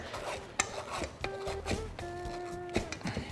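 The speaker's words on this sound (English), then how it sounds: "let's finish grating our butter" Butter is grated into a flour mixture in a bowl, giving quiet, close scraping strokes in an uneven rhythm, with a few light clinks in between.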